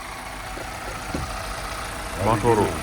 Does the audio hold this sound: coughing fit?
no